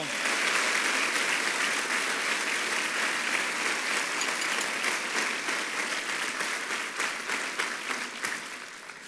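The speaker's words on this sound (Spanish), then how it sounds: "Vamos, denle un aplauso fuerte al Señor." A church congregation gives loud, sustained applause to the Lord during a service, many hands clapping densely and steadily for the whole stretch, easing slightly toward the end.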